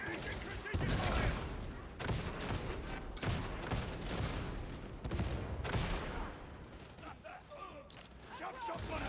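Bursts of precision gunfire in a combat video game crack out in several loud volleys separated by short gaps, mixed with dense battle noise and voices shouting.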